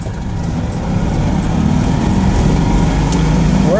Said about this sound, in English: We're aiming to accelerate from 40 to 60 in top.